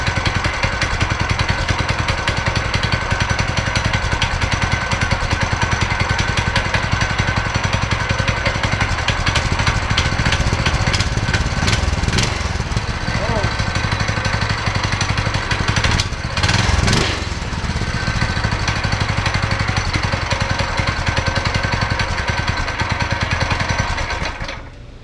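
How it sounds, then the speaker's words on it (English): A go kart's small engine with a newly installed torque converter runs loudly nearby, a steady rapid popping putter with a few revving surges midway before cutting off at the end. "let's start it up and see how the torque converter is"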